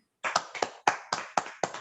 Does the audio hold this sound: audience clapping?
yes